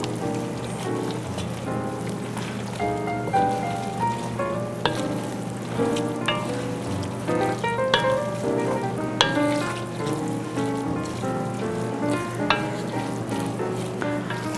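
Greens are stirred while cooking in a pot, a steady sizzling hiss with soft irregular scrapes and clicks of the spoon throughout, close and without any talk.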